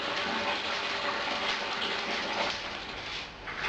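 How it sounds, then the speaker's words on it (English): Mash water pouring into a brewing kettle on a Munich Helles brew day, a steady close rushing gush of liquid filling the vessel without pause. "I'm transferring the mash water into the kettle,"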